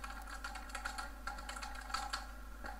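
Code being typed on a computer keyboard in a steady patter of light, quick keystrokes, close but quiet over a low background hum, with no one speaking.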